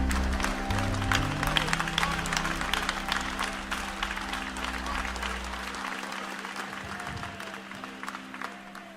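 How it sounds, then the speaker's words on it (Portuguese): A church congregation claps hands in praise to Jesus. Steady, moderately loud applause rings in the sanctuary over a sustained low organ or keyboard tone that drops out partway through. "e louvai a Jesus com as palmas bem forte."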